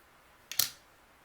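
A single quick snip as crochet yarn is cut to finish off a bra cup on a crochet top. The sharp, close cut is followed by a short tail of rustle, then quiet.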